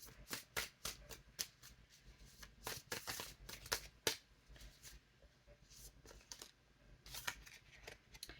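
Tarot cards being shuffled by hand, a quiet series of sharp riffling bursts at an uneven rhythm with short pauses between them, close up and without talk.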